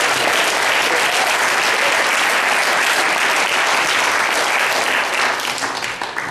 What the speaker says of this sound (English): Now may we have a round of applause for Jake, who was dragged.